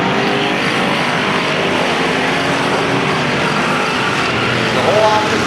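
Race cars roar around an oval track at a WOWMS event in Columbus, running single file in a continuous loud engine drone with no breaks.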